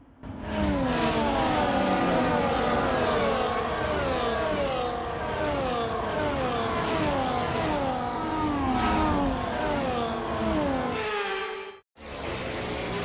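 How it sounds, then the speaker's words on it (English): Formula 1 cars on a formation lap before a sprint race at the China GP in F1 24 drone loudly and steadily, their engine pitch rising and falling as they weave and shift gears. The sound cuts out briefly near the end. "The formation lap is underway ahead of today's sprint."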